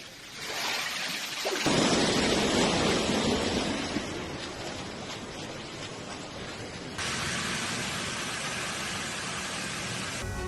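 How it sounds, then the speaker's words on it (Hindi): Heavy rain pouring down in Malaga during flooding that filled a metro station, a dense, loud, continuous hiss of downpour with shifts in intensity and no voices. "मलागा नाम के शहर में इतनी बारिश हुई है कि मेट्रो स्टेशन पर पानी भर गया।"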